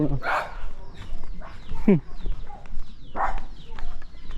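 A dog barks a few times in a rural village, with short bursts standing out over steady outdoor background noise and other faint sounds.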